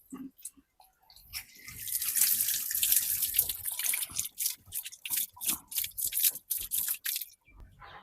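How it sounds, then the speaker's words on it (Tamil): Water runs from a tap as a fish tank filter sponge is rinsed beneath it, splashing and squelching in uneven bursts, close by and fairly quiet. "வாங்க இதை அப்படியே பைப்லேயே கழுவிடுவோம்."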